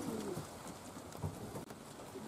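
Pigeons coo softly on a drizzly early morning, a few low, rounded calls heard faintly over the quiet patter of light rain.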